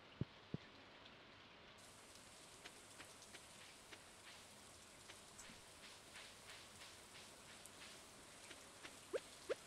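Steady rain falls across a farm in Stardew Valley, a soft even hiss with scattered drip taps and a few sharper clicks near the start and end, quiet and without any voices.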